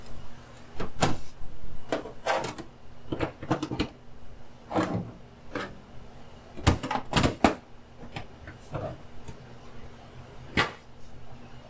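A series of sharp knocks and clunks, like a bus door being shut and latched, spaced irregularly over a quiet background hum.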